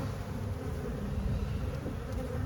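Honeybees buzz around an open hive, a dense, continuous drone with a low hum that holds steady throughout and sounds close and moderately loud, with no talking.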